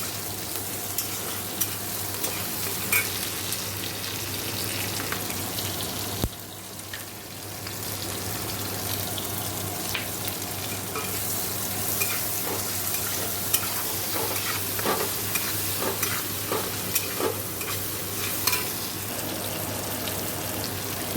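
Ingredients fry and get stirred in a pan during home cooking, giving a steady, close sizzle with a continuous scraping stir and small crackles throughout, with no talking.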